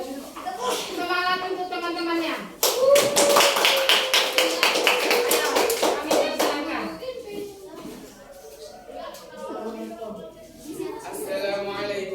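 A classroom of children clapping together in a burst of quick, loud, overlapping claps lasting several seconds, framed by children's voices speaking before and after.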